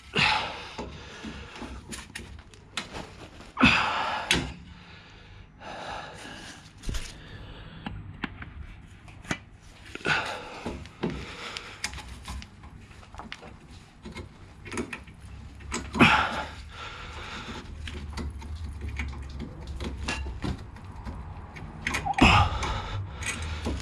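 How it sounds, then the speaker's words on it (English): Metallic clicks, scrapes and creaks from tools working a bottom spring free on the rear drum brake shoes of a 2012 Fiat 500 during a handbrake cable job, close up, in irregular bursts with no talking. "I think I'll just undo this bottom spring on these shoes"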